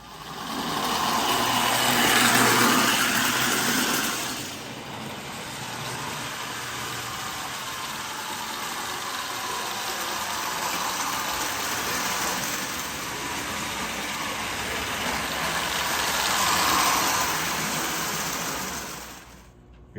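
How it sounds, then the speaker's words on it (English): A Marx toy train pulls black tank cars around a track with a steady rolling rumble and whir, louder as it passes close at the start and again near the end, fading in between. "We're going to run a black tank car train around the track."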